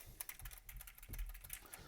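Keys clack on a computer keyboard whose switches may need lubrication, in a quick, irregular run of light taps close by and fairly quiet.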